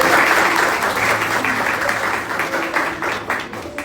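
A church congregation at a Christmas service applauds loudly and steadily, dense clapping close by that slowly tapers off toward the end.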